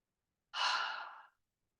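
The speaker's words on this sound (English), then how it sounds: "Gently begin to deepen your breath." A single soft, slow exhale of deep breathing during a gentle yoga relaxation, close and quiet, lasting under a second with silence before and after.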